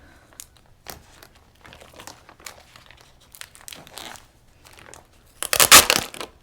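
Packing tape is handled with soft, scattered crinkles, then peeled away from a stencil transfer in a loud, close, crackling rip near the end.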